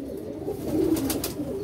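Pigeons coo in a loft, a few soft low throaty calls rising and falling near the listener, with faint background noise.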